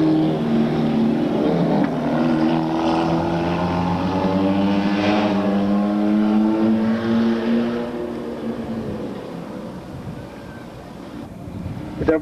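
Race cars circling a track at a 1997 RGS meeting, engines droning loud and steady with rising and falling tones as cars pass, a continuous roar that eases slightly toward the end.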